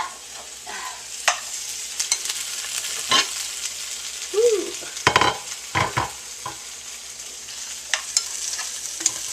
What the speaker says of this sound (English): I like to brown my veggies before I put them in the crock pot